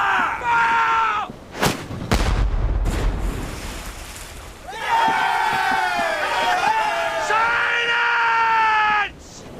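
A ship's bow chaser cannon on an 18th-century sailing warship fires, a sharp boom with a rumbling tail, amid shouting crew voices before and after.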